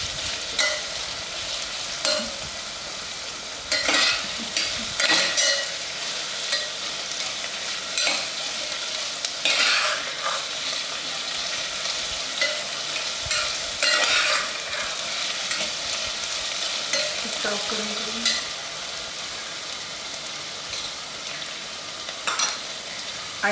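Coriander being stirred into a sizzling tempering for khichdi, the spoon scraping the pan in steady, repeated strokes over a continuous close frying hiss, with no one talking.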